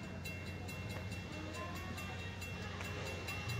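Steam locomotive 1225 backs up a train, a steady rumbling rail noise with faint rhythmic clanking, fairly quiet and continuous throughout, with no talk.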